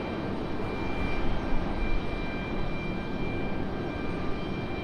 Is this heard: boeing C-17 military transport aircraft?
yes